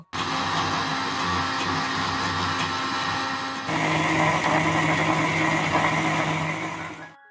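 A mixer grinder spins cashews, poppy seeds, green chilli and tomato in a steady, loud motor whir. The pitch and texture shift partway through, then the grinding stops near the end.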